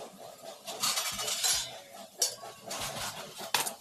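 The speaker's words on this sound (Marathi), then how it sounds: "जास्त बारीक नाही चिरणार आहे मी, थोडी ओबडधोबड कापून घेते" Knife roughly chopping washed fenugreek (methi) leaves on a board: a series of irregular, close, crisp cutting taps and clicks with brief pauses, fairly quiet.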